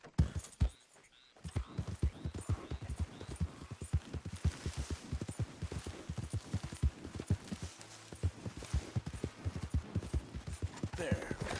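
Horse hooves clip-clopping in Red Dead Redemption 2, a steady rhythmic trot of close, distinct hoofbeats after a brief quiet start, with a rider speaking softly at times.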